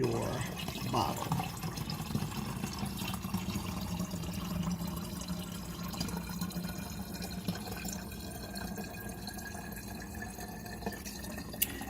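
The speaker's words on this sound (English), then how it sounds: "take the solution and you want to pour it into your bottle" Clove mouthwash solution is poured into a bottle, giving a soft continuous liquid trickle and fill sound at close range, with faint dripping and no speech over it.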